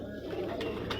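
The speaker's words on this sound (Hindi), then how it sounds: "ये सज्जाद ख़ान हमें दिखा रहे हैं अपने उस्ताद के घर का कबूतर।" A breeder pigeon gives a soft, low coo, close and quiet, lasting about a second over a faint murmur of background noise.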